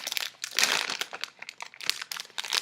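Plastic bag of mixed sour candies crinkled and rustled open by hand, close and fairly quiet, in bursts of crackling with short pauses between.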